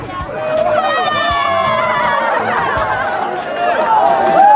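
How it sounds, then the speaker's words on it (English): Crowd of spectators at a winter ice festival in China cheering, laughing and chattering to congratulate ice divers, a steady loud hubbub of many voices with scattered laughs rising toward the end. "And survivors receive the congratulations of the crowd."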